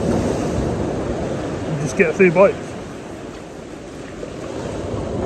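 Sea waves splashing against a promenade sea wall on the North Norfolk shore at Walcott in darkness, a steady washing roar with wind, and a person speaking briefly over it partway through.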